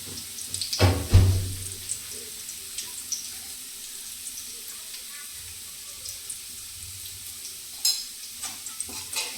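Garlic and turmeric fry in a pan over a cooking fire, a soft continuous sizzle with stirring scrapes and a couple of louder clatters near the start.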